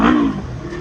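A 2017 Yamaha YZF-R3 321cc motorcycle engine gives a short, loud, close roar as the bike is ridden, then settles into a steadier drone.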